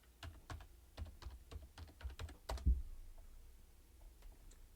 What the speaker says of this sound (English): Let me type it up and see how you pronounce it.